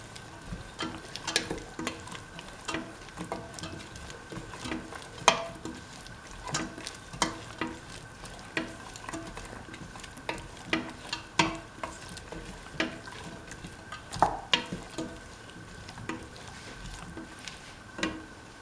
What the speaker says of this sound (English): Mix the kidney beans thoroughly with the rest of the mixture.